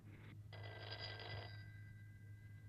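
A telephone bell rings in a quiet room, a short burst of electric trilling, a brief pause, then a longer ring that fades into a lingering tone over a low steady hum; nobody speaks.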